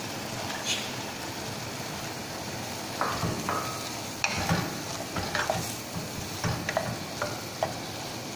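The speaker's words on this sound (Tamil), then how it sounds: "வெங்காயம் நல்லா வதங்கட்டும்" Onions sautéing with tomato in a pan for a brinjal kara kuzhambu, a steady soft sizzle with intermittent stirring scrapes and clinks growing busier in the latter half.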